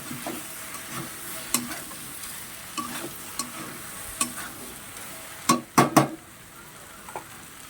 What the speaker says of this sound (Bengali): তার আগে আমি সবজিটা ভালো করে নাড়াচাড়া দিয়ে নেব।